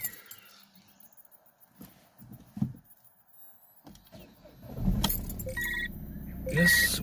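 A Citroen C4 1.6 HDi diesel with a fuel rail pressure sensor circuit fault is started after repairs. Quiet handling noises come first, then the engine catches at about five seconds and settles into a loud, close idle.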